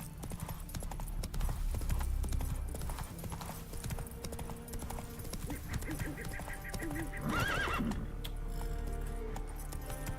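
Hooves of Geralt's horse Roach clip-clop in Witcher 3 in a steady rhythm, close and fairly quiet, with a short whinny near the end and faint game ambience beneath.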